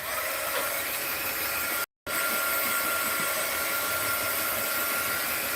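A hair dryer blows steadily over coffee-dyed paper at close range, a constant loud whoosh broken once by a brief cutoff before resuming, with no voices.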